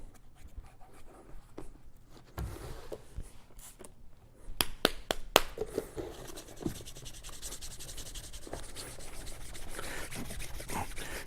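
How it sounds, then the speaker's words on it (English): A cloth buffs wax on an Allen Edmonds leather shoe in straight strokes, giving a close, soft rubbing and scratching that begins faintly and grows steadier and louder in the second half, with no voices. "when I'm coming back and buffing like this, I tend to just go in straight lines"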